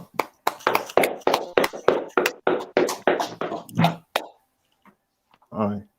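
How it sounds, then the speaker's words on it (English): Hands clapping about a dozen times in a fairly steady rhythm, close and loud, then stopping abruptly, followed by silence and a short burst of a voice. "So clap it up."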